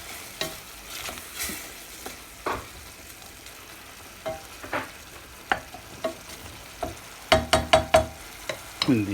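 Lamb ragù sizzling and bubbling in a pan after a ladle of broth goes in, soft crackles and spits with intermittent stirring scrapes that grow busier and louder toward the end, no talk.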